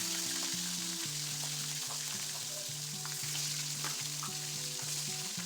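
Fish heads fry in hot mustard oil in a small wok, making a loud, continuous close sizzle without pause. A low repeating tonal hum runs underneath.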